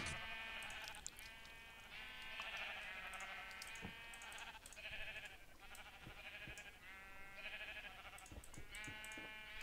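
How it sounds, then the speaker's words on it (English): Sheep in a video game bleating repeatedly, several overlapping wavering calls in quick succession, close and fairly loud, with no talking. "Boy, those sheep are loud."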